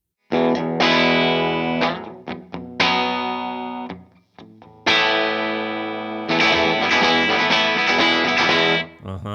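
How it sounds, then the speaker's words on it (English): Jazz chords strummed on a Motander electric guitar through an effects-coloured amp tone, with bursts of ringing chords separated by brief pauses and stops, loud and close with no speech. "Hit me with some jazz chords, John"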